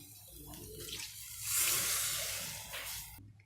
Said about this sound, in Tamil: இந்த கரைச்சி வச்சுருக்க புளி தண்ணியை ஊற்றிடுவோம்.